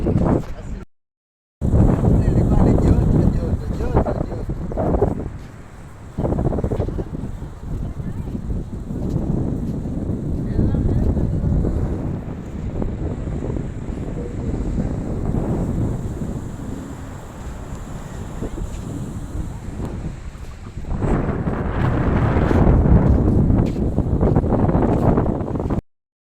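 Strong wind gusting at the shore and buffeting the microphone in loud rumbling bursts, with voices talking intermittently underneath.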